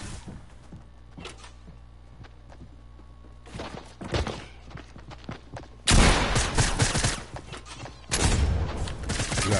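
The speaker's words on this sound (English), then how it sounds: "Shooting in front of us." Gunfire in Fortnite, starting as scattered sharp shots and thuds, then rising into loud, dense bursts of rapid fire in two heavy stretches near the end.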